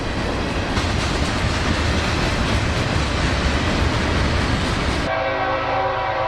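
A freight train of dozens of rusty old boxcars rolls steadily past in South Georgia, a loud continuous rumble and rattle of wheels that cuts off sharply near the end, leaving a quieter hum.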